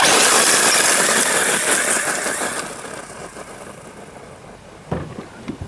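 A battery-powered Traxxas Slash 4x4 RC car's electric motor punches to full throttle, a loud, dense whine-and-rush that fades over about three seconds as the car speeds away, followed by a few faint knocks.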